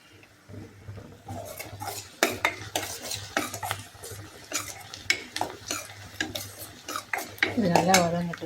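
Onion sautés in a pan while a utensil stirs it in repeated scraping, clattering strokes, close and fairly loud over a low steady hum and a faint sizzle.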